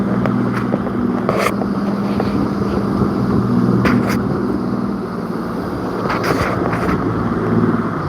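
Fishing boat engine at sea during halibut gear setting, a steady low hum dropping as it throttles down, with wind rushing across the microphone and occasional brief knocks.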